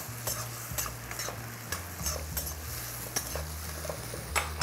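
Soy sauce hits a hot pan on a cooking show and sizzles steadily while a utensil stirs and scrapes in quick irregular strokes, the frying close and constant with no talking.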